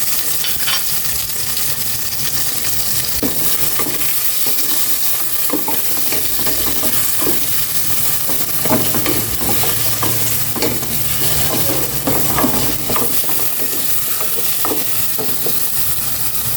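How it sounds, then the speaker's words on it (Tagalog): Onion and tomato sizzle loudly in hot oil as a pan sauté goes on, with a steady frying hiss and intermittent clinks and scrapes from a stirring utensil. "itong igisa yung sibuyas, kamatis"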